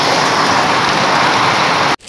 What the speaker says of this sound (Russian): Гроза, молния, сильный ливень и даже град.